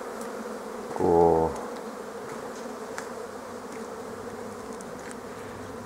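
Honeybees buzz steadily around hives at an apiary on a March day, a continuous close hum with a louder tonal drone swelling briefly near the start; a single word is spoken.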